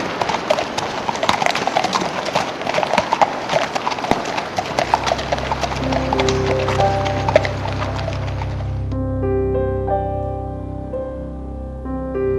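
Horses on a trail ride in the Rocky Mountains clip-clop steadily for several seconds, hooves knocking close by in an uneven rhythm, and then a sustained tonal drone takes over near the end.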